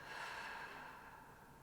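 A person slowly and gently blows a long breath out during a guided relaxation exercise, a soft, faint airy hiss heard alone that tapers off gradually.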